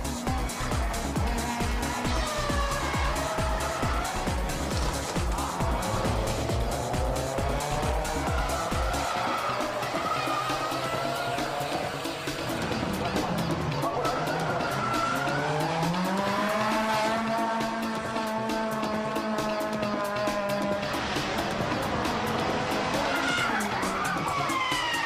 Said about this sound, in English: That was Kuroi in the yellow one Via, which had an RB26 and I think something like 700 horsepower